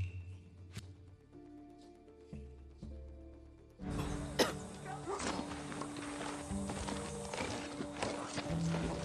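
Horse hooves clip-clop in the video game Far Cry 6, a steady walking beat under game ambience that grows fuller and louder partway through.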